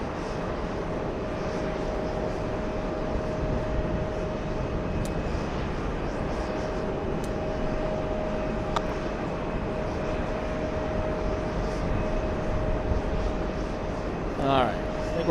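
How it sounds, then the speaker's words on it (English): An Air China Cargo freighter sits lining up on the runway, a continuous distant jet engine roar and hum with people talking over it throughout. "Big freighter, China Cargo, Air China Cargo lining up."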